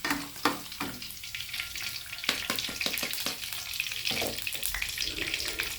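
Salted squid fries in hot oil with a continuous close sizzle and crackle, punctuated by sharper pops and spatters throughout.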